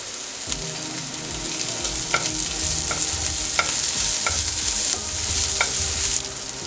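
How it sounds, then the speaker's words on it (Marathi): Carrots sauté over a high flame in a pan for a vermicelli upma, a steady sizzle running throughout while a utensil scrapes and stirs in a few distinct clinks, up close with no talking. "चार 5 मिनिटं चांगले फुल गॅसवरती आपण परतून घेतलं आहे।"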